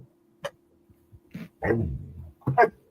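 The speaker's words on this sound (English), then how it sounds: "dog showed up over here." A dog barks a few times in short, sharp bursts, spaced unevenly against an otherwise quiet room, with the last couple of barks louder and closer together.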